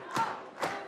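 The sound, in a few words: football stadium crowd noise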